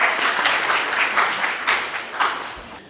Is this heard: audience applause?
yes